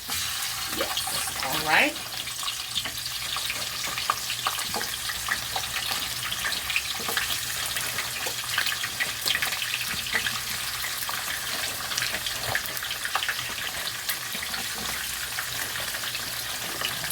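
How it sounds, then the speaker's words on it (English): Truffle fries fry in hot oil with a continuous hissing, bubbling sizzle, close and steady, while a voice speaks briefly over it. "So these are probably going to take about 8 minutes to fry up."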